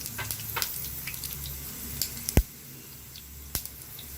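Four or five dried red chillies crackle and sizzle in hot oil for a South Indian sambar, a soft steady frying hiss broken by a few sharp pops and one louder spit near the middle.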